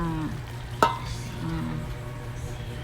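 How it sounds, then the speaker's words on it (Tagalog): Vegetables cooking in a pan are stirred, a low steady sizzle with a sharp utensil scrape against the pan partway through, close and moderately loud. "Amo nang gimikos-mikos aron mahalo gid ang tanan."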